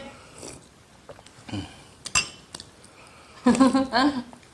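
Glasses of a sweet drink clink sharply once in a toast amid quiet table sounds at a rural Sichuan meal, followed by people talking briefly.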